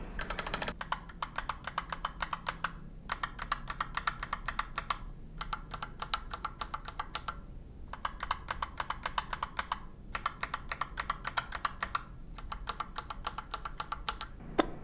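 Someone types on a Fantech MAXFIT mechanical keyboard with red switches, producing close, steady bursts of rapid keystroke clicks separated by brief pauses, with no voices.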